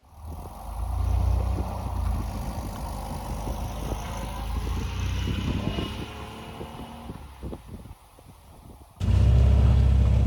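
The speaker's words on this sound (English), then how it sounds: "My MGB GT is out on the road for the first time in probably a decade." A 1966 MGB GT classic car drives on the road, its engine a steady droning rumble with some wind noise before it swells to a louder, heavier roar at the end.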